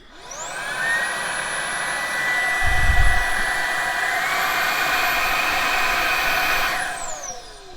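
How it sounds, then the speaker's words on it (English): A HiKOKI R36DB 36V cordless vacuum cleaner switches on and ramps up to a steady low-medium speed whine, a loud close motor hum with a rising pitch at the start and winding down at the end. "this vac is that it doesn't go to full speed right away"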